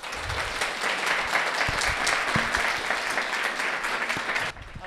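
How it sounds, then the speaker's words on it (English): An audience at a live Sheffield Forum event applauds with steady, dense clapping that holds at a moderate level for several seconds before cutting off, with no clear speech. "Big round of applause, Jonathan Reid."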